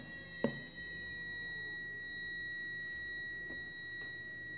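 A multimeter emits a steady continuity beep while testing the 2,000-volt coil of a microwave oven transformer against its grounded casing, a constant tone held throughout after a small click.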